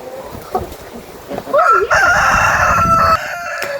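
A rooster crows loudly and close by, a long wavering call after a few soft clucks, with faint background noise.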